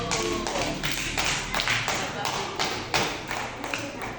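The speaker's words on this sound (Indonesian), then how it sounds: "Semua tepuk tangan dulu." A crowd of schoolchildren clapping hands together in a classroom, a busy patter of claps with some chatter mixed in, fairly close.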